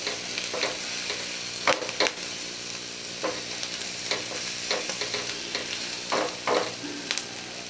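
Boiled, broken potatoes stirred and frying in a pan for a dosa filling, with a continuous sizzle broken by repeated scraping strokes of a spatula, close and without talk.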